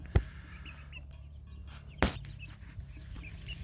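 Chickens and roosters cluck softly in a coop holding newly hatched chicks, with two sharp knocks and a low steady hum underneath.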